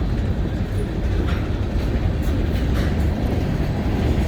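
Canadian National freight train boxcars roll past close and loud, giving a steady heavy rumble with faint rhythmic rail clicks.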